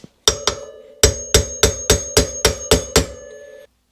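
A hammer drives a socket against a wheel spacer while front wheel bearings are replaced on a dirt bike: nine hard, ringing metallic strikes in a quick, fairly even rhythm, loud and close, with no voices.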